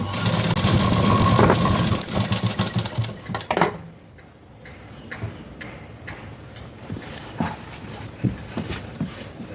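A sewing machine stitches a blouse neck, running in a loud buzzing burst at first, then giving short, quieter intermittent runs and ticks close by.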